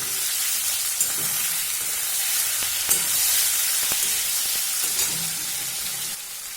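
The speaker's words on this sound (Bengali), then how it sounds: "এবার আমি কেটে রাখা দুটো টমেটো এর মধ্যে দিয়ে দিচ্ছি।" Chopped tomatoes hit lightly fried onions in a hot pan for a yardlong bean curry, raising a loud, steady sizzle with a few soft stirring knocks and no talk.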